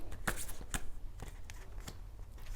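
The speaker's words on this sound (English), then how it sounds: "I'll shuffle one more time" Tarot cards being shuffled by hand, a series of soft, quick slaps and tapping clicks at an uneven rhythm, close and fairly quiet.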